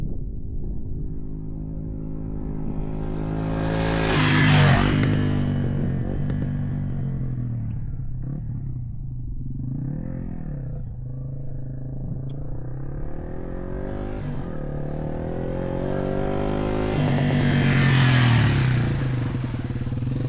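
A Yamaha TW200 motorcycle riding a sandy trail in New Jersey, its single-cylinder engine rumbling close and loud as it revs up and eases off in swells, with occasional rattles and clatter from the bike.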